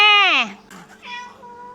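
A cat lets out one loud, drawn-out meow in a home kitchen where a tuna sandwich is being made, followed by someone talking.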